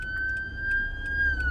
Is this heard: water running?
no